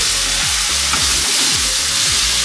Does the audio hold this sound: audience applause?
no